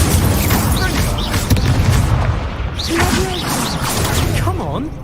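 Incendio fire spell blasts boom and whoosh in the video game Hogwarts Legacy during a spell duel. The roaring, booming combat noise is loud and continuous, and shouted voices sound over it.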